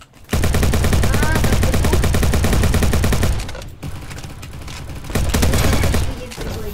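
Dense, loud automatic gunfire from the Roblox shooter Bad Business rattles almost continuously, briefly dropping back before bursting again, with several weapons firing at once.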